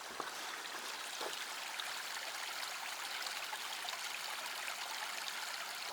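A small, narrow brook flows under a bridge with a steady, close trickling and burbling of water, continuous and moderately quiet, with no one speaking.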